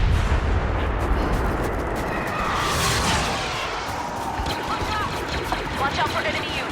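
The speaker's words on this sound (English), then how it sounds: "Rebel ships are about to fire on our walkers." Star Wars Battlefront video game battle with rebel ships firing on Imperial walkers: rumbling distant artillery-like blasts and a swelling whoosh amid dense combat noise, with in-game voices speaking over it.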